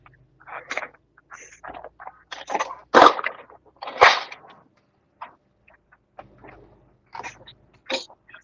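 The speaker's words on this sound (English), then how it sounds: "Sorry about blowing snot rockets into the microphone." Sharp nasal snorts of someone blowing snot rockets right into a microphone on the road, several bursty blasts with two loud ones close together near the middle and smaller puffs scattered around, no speech.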